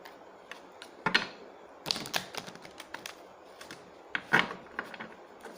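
Playing cards being shuffled by hand during a yes-or-no card reading: several quick riffling bursts and taps, close and fairly loud, with no talking.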